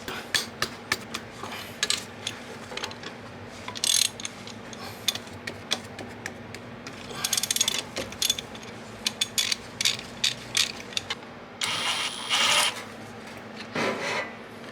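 A ratchet wrench removes the top AC compressor bolts on a 2006 Honda CR-V, giving bursts of rapid close clicking with metallic scrapes and short pauses between runs, and no talking.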